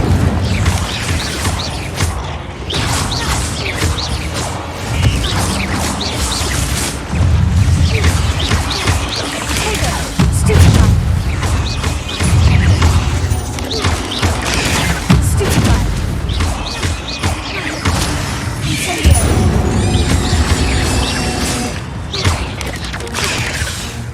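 Fiery Incendio spell blasts in the Hogwarts Legacy video game, several loud booming bursts with crackling and mechanical clatter repeating through a dense, continuous game soundscape.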